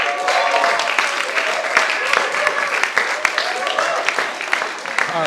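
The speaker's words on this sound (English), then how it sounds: "I can see him guilting the audience to clap for him." Studio audience at a televised debate show applauding and cheering in a steady, dense wash of claps, with crowd noise layered throughout.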